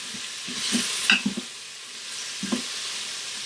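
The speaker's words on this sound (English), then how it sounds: "Just stir that around for a minute and let it get soft" Food sautéing in an Instant Pot gives a steady hiss of sizzling, broken by a few close scraping stirs of a spoon against the pot and no talking.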